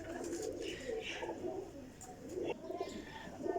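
Pigeons coo softly and continuously nearby, several low throaty calls overlapping in a steady murmur.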